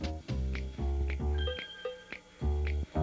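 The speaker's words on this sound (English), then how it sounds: "Hey, there's the bell." A bright electronic bell chimes several times among bouncy, loud game-style music tones, each ring short and sharp.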